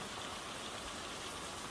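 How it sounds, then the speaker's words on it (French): Steady rain pours outside in a dense, even hiss that fills the whole moment, with no voices and no break in the downpour. "Qui sait jusqu'à quand il va pleuvoir?"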